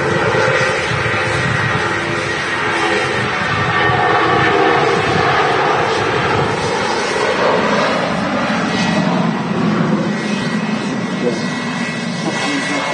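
A Jet2 Boeing 757 airliner departing Manchester Airport for Tenerife South, its loud jet engines roaring steadily and rising throughout, with a person talking over the noise.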